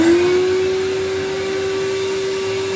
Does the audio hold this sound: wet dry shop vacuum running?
yes